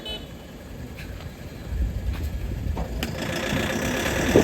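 A motorcycle engine on a street in Bangalore, India, a close, steady idling putter that builds louder and rougher toward the end, with faint outdoor background noise.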